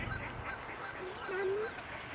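Ducks calling near a duckling, heard as a short, fairly loud honking call rising out of steady outdoor background noise, with no talking.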